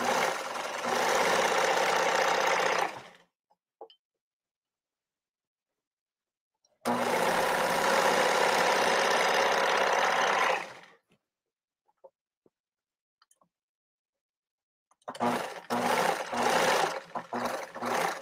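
A sewing machine zigzag-stitches lace onto an old silk blouse in three loud, fast-buzzing bursts of a few seconds each, separated by silent pauses with small clicks.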